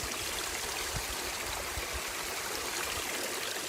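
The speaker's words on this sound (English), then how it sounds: "I'm going to be hiking down a waterfall" Waterfall rushing beside a hiking trail on the Appalachian Trail, a dense, loud, continuous roar of falling water heard close, with no talking.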